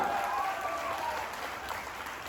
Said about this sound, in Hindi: मैं चाहूंगा सर के लिए एक जोरदार ताली होनी चाहिए